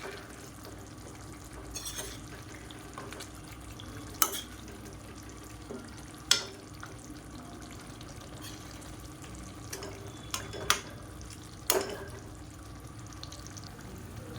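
Egg masala roasting in a pan, a steady quiet sizzle with occasional sharp scrapes and taps of a spoon stirring against the pan.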